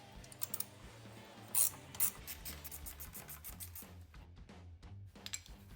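Hand tool clicking and ratcheting while removing a motorcycle foot peg, a close series of quick, irregular mechanical clicks and taps, faint overall.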